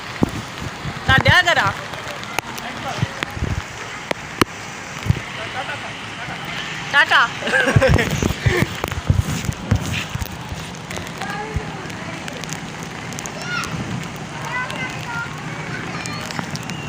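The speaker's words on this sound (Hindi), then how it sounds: "बहुत ज़्यादा तेज़ बारिश हो रही है छत पे।" Heavy rain pours on a rooftop in Karachi as a dense, constant hiss with scattered sharper splashes, while a voice talks intermittently over it.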